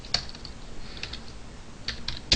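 Computer keyboard typing while coding in Java: scattered close key clicks in small bursts, ending in a louder cluster of taps, with no talking.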